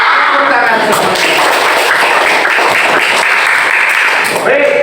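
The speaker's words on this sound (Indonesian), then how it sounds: "Tepuk tangan semuanya." A full class of students claps loudly and steadily together in a classroom, a dense, close burst of applause that lasts the whole moment.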